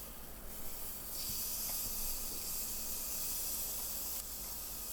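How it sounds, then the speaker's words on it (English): Pork chops sizzling on a Weber Q grill at medium heat, a steady loud hissing sizzle that swells after the first second and runs on evenly with faint crackles. "I'm going to close the lid and grill on medium heat"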